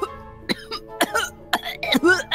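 A voice imitates coughing in a Minecraft family role-play, producing a quick series of harsh, throaty cough bursts with short gaps, close and fairly loud.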